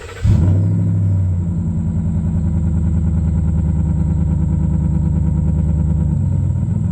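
A car engine is cranked and then runs at a steady idle. It sits close and loud, with an even low rumble lasting several seconds.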